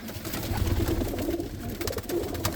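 Roller pigeons coo in a loft, soft repeated throaty calls overlapping one another in a close, steady murmur without speech.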